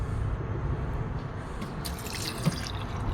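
Tap water runs steadily into a drinking-water container aboard a shanty boat, a continuous close splashing stream with no talk.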